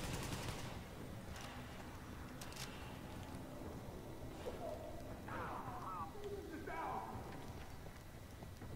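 Gunfire crackles in a Division video game firefight at the Russian Consulate, with short bursts early on under loud shouting voices and game noise.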